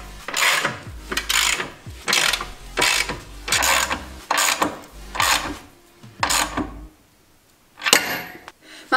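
Ratchet tightening the axle lock nuts on a Mercedes W140 S-Class, about nine bursts of rapid clicking, close and distinct, separated by short pauses.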